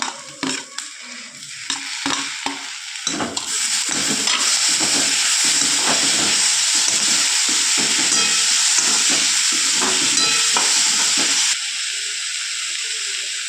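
Tomatoes hit a hot frying pan while cooking egg roll filling with cabbage, and a loud, steady sizzling hiss follows. Scraping and stirring clatter comes first, then the frying hiss runs until it eases near the end.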